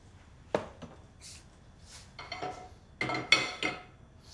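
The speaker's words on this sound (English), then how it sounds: "I put some oil in a pan, cooking oil in a pan." Pans and utensils clink and knock in a kitchen while a lamb stew is started, with scattered metallic taps and clatters between quiet pauses. No pouring of oil is distinct.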